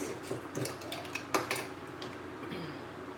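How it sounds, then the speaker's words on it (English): Pan handled in a home kitchen, giving a few light metallic clinks and knocks, one sharper clank standing out, close and moderately loud with no talking. "going to bring my pan back"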